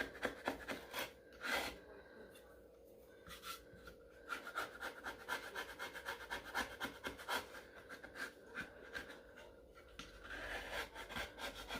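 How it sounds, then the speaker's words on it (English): Scraping something off the bottom of a secondhand thrift-store item, heard as a close, continuous rasping and rubbing in uneven strokes, with brief pauses and soft breathing between passes. "Just going to scrape this off the bottom here a little bit."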